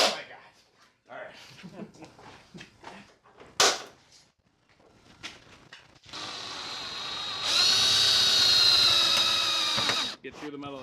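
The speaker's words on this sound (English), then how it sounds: "We're going to center punch it, drill it," Talk and clatter give way to a power drill grinding steadily through a Dodge's metal hood for several seconds, close and loud, before stopping.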